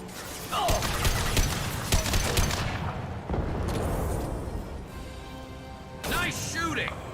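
Bursts of gunfire in a Mass Effect combat scene, with rattling volleys, mechanical clatter and a booming impact that come and go among battle noise, with voices of characters talking over the fighting.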